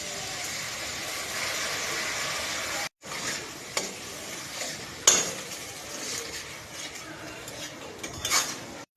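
Ground spice paste fries in hot oil with a soft sizzle while a utensil stirs it, scraping and clinking against the pan, close by with brief breaks.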